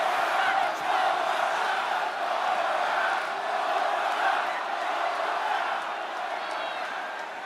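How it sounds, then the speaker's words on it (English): A wrestling arena crowd in WWE 2K25 roars and cheers continuously during a Money in the Bank match, a dense, sustained wash of many voices at fairly high volume that swells and dips slightly. "This crowd is on pins and needles. The WWE Universe is ready to erupt."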